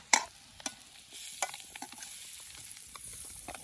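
Boiled potatoes go into a pan with turmeric for samosa filling, giving a soft thud and clatter followed by quiet stirring and scraping over a faint background sizzle, with no talk.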